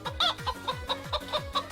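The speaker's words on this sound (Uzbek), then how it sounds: "Xo'rozi bu." Rooster clucking in a steady series of short, close calls, roughly one every quarter second, loud and clear with no talking.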